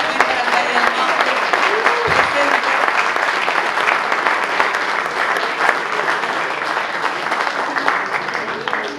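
An audience at a wine awards ceremony applauds steadily, dense clapping from a large crowd filling the whole stretch at an even, fairly loud level.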